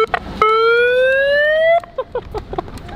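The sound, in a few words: vehicle siren being sounded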